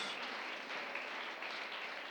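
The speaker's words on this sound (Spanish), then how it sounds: "denle el aplauso al Señor" Steady applause from a church congregation praising the Lord during a service, a dense even patter of many hands held at moderate loudness throughout, with no voices standing out.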